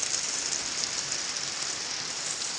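Heavy monsoon rain falling in Bengaluru, a steady, dense hiss of rainfall that stays even and continuous throughout with no voices.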